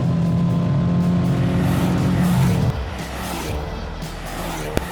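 A Hyundai i20 N on a race track accelerating hard out of a corner, engine roaring loud and close with a steady droning note that drops off abruptly midway, then lower rumbling road noise.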